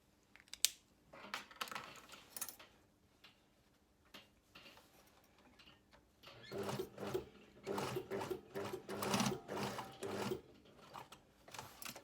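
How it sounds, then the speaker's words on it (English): A domestic sewing machine stitches along a marked line on a box blazer welt, in short bursts, then a longer run of rapid stitching in the second half, close and moderately loud with small handling clicks between. "So I'm just going to stitch along there"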